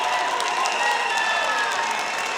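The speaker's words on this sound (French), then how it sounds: "Un tonnerre d'applaudissements pour Teresa Lucia Obono." A crowd at an oratory competition final gives loud sustained applause mixed with cheering and shouting, a thick continuous roar that cuts off abruptly.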